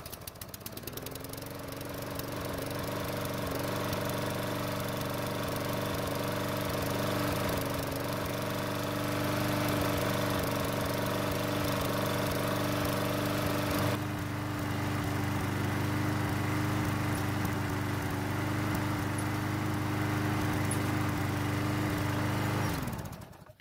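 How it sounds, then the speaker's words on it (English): A Snapper lawn mower's small engine runs steadily to warm up, a loud, even drone with a constant hum that continues unchanged for over twenty seconds before cutting off at the end. "I want to run the engine for a little bit to warm it up"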